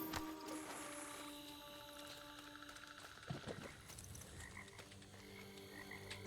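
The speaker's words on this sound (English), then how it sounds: "I like the frog sounds" Frogs croak in Diablo IV, a steady low croaking chorus behind tonal game ambience with a few louder irregular calls and a sharp sound at the end.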